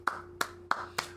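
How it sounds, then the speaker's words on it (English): Four sharp, evenly spaced hand claps ring out close by in a quiet room, with a faint steady hum underneath. "Getting a clap for that."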